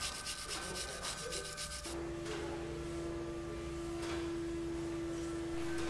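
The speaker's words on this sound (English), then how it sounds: "brush the top of the pistons, clean the carbon off so you can inspect a bit clearer" A brush scrubs carbon deposits off the tops of engine pistons on a cylinder block, giving a quiet, continuous scratchy rubbing with a faint steady tone underneath.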